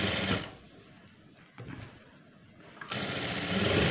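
Sewing machine stitching along the piping edge of a churidar sleeve, a steady rapid whir that pauses for about two seconds mid-way before resuming, close and alone.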